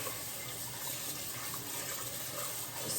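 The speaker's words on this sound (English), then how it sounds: "So our carrots are peeled, chopped, and now I'm gonna wash them." Chopped, peeled carrots are rinsed under a running kitchen tap. Water flows in a steady, even hiss for the whole span, close and fairly loud, with no talking.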